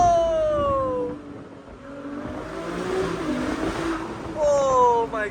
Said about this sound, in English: Oh my god, this car is fast.